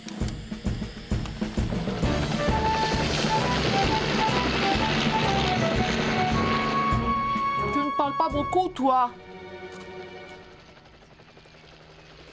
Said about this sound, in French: On dirait l'hélicoptère de Tom.